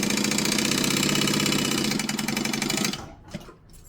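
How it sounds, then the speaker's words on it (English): A sewing machine runs a top stitch on a fabric possum pouch, a steady fast whirring rattle for about three seconds before it stops and a few faint handling sounds follow. "we're just going to join the top stitch"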